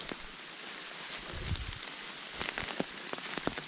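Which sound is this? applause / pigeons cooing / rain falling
rain falling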